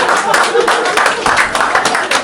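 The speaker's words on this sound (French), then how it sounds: "Tonnerre d'applaudissements pour papa" Applause for the father at a family brunch: a steady patter of hand clapping from a small group, loud and close, with voices mixed in.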